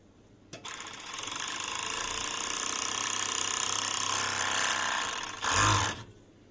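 A sewing machine stitches velvet fabric for a cushion in one steady, continuous mechanical run of about five seconds, close and fairly loud, then ends with a brief heavier burst.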